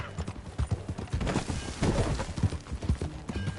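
A horse's hooves clip-clop at a riding pace in the Western video game Red Dead Redemption 2, with a rhythmic, fairly close trot and occasional louder footfalls carrying through the whole stretch.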